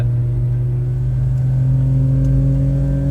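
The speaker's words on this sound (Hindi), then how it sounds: "व्हील स्पिन ही व्हील स्पिन, क्या बात है। Automatic shift" A car launches hard from a standstill on a road in Pakistan, its engine roaring loud and close as it revs up through automatic gear changes with wheel spin, a steady mechanical drone held throughout without any talk.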